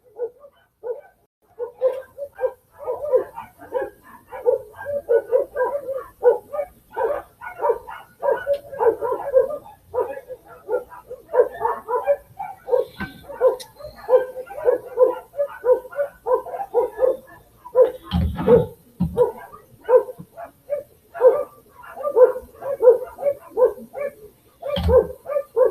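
Neighbors' dogs bark excitedly in a continuous, overlapping chorus of loud barks and yips, with a couple of brief thumps near the end.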